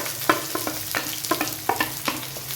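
Shallots, curry leaves and green chilies sauté for idli upma, with brisk rhythmic spatula scrapes over a close, steady sizzle, about six strokes in quick succession, with no talking.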